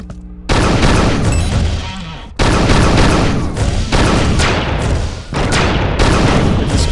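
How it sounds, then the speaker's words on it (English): Rapid volleys of energy-weapon fire from the dispersion pistol in the game Unreal 2, loud and dense, in a short burst followed by a sustained stream of overlapping shots with brief dips between. "Take a couple practice shots."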